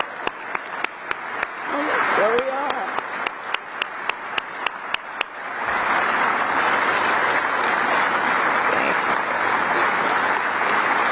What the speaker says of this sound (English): I'd like you to stand, please, so we can applaud you.